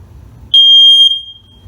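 A single loud, piercing electronic test beep from a smoke alarm, lasting about half a second, in an otherwise quiet room of a rental property.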